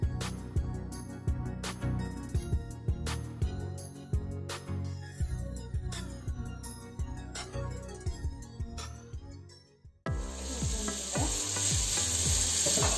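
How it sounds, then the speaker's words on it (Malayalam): Masala and curry leaves fry in a pan with steady, loud sizzling and frequent scraping stirs, the cooking for karimeen pollichathu, pearl spot fish in banana leaf. The sizzle flares brighter near the end. "അപ്പോൾ കറിവേപ്പിലയും കൂടെ ഇതിനകത്ത് ചേർത്ത് നമുക്ക് വഴറ്റ് നല്ലപോലെ മസാലയൊക്കെ പ്രിപ്പയർ ചെയ്യാം."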